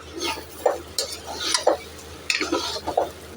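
A spoon scrapes and stirs rice with katla fish heads sautéing in a pan for a Bengali muri ghonto, with an irregular rhythm of close metallic scrapes over a steady sizzle.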